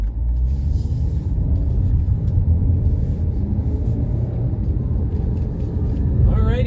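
A quick car drives along winding Bouquet Canyon Road, giving a steady, loud low engine and road rumble heard from inside the cabin, unbroken throughout.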